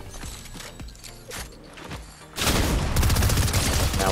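Ranger shotgun blasts in a video game: several sharp shots in an uneven sequence, then a dense, loud burst of gunfire and impacts that carries on to the end.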